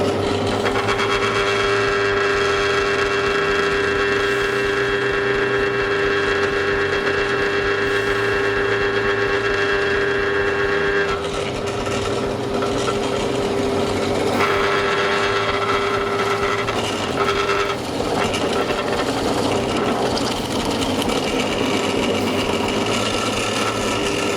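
A Parkside PTBM 500 E5 bench pillar drill drills a hole. Its motor gives a steady, tonal hum and whine throughout, with the load shifting partway as the bit cuts. No one speaks.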